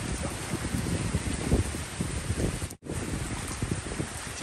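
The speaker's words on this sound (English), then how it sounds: "it's raining a lot" Heavy rain falls steadily in Guyana, a dense, continuous hiss with wind noise on the microphone and a brief dropout partway through.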